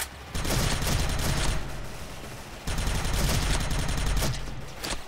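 Automatic gunfire from an M4-like rifle in the SF (Special Force) shooter game, two long loud bursts of rapid shots split by a short pause, with no talk over them.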